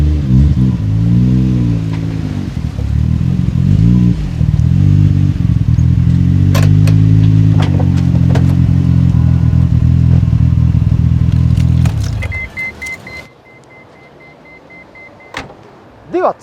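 Nissan RB26DETT twin-turbo straight-six idling and blipping through an aftermarket muffler, a loud, deep, burbling exhaust drone with rev swells that cuts off abruptly near the end, leaving quiet with a few faint clicks.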